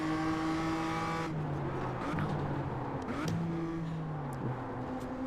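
Race car engines drone steadily on track in the iRacing sim, several overlapping exhausts holding and shifting pitch as cars run close together, with a brief rising whine of one passing car partway through.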